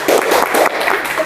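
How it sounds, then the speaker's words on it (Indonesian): A small group at a school-achievement podcast claps together, a short burst of close, loud hand claps with an uneven rhythm. "Tepuk tangan dulu dong."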